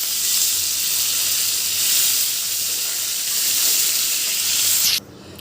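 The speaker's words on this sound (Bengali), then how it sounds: "মাছটাকে ভেজে নিচ্ছি" Koi fish (climbing perch) fry in hot oil in a pan, giving a steady, close, crackling sizzle that runs unbroken and then cuts off abruptly near the end.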